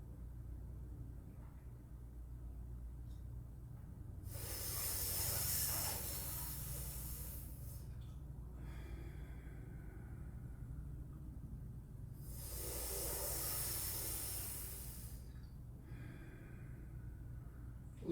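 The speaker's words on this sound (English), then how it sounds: "breathe out through your nostril" Two forceful nasal exhalations during a cooling pranayama breathing practice, each a long broad hissing rush of air lasting about three seconds, separated by quiet pauses over a faint low background hum.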